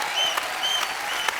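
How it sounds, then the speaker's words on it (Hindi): A studio audience at a Kapil comedy show bursts into applause, a brief, lively patter of clapping with a few sharp peaks and a faint tonal whistle above it. "ताली बजाओ, क्या बात है?"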